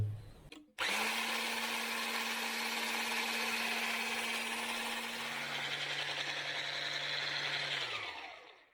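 An electric mixer stirs a homemade bream groundbait mixture. It clicks on, holds a loud steady whirring drone, drops to a lower speed midway and then winds down to stop.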